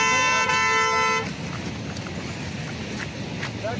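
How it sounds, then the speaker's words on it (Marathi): A single car horn blares steadily for about a second at the start, then cuts off, leaving outdoor road noise. "इथं आला तू, इथं आला हॉर्न दे जा."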